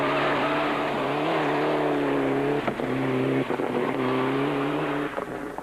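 Mitsubishi Lancer Evo 9 rally car on a Cape Rally 2006 stage, engine held at a loud sustained howl with shifting pitch and brief dips as the driver lifts, close and continuous.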